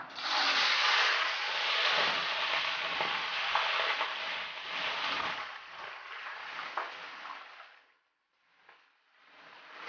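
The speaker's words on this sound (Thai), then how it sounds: "ตอนนี้ค่ะน้ำมันร้อนค่ะ เอากุ้งลงทอดค่ะระวังนะคะ" Shrimp fry in hot oil with a loud, dense sizzle that slowly fades and drops out near the end, close and without talk.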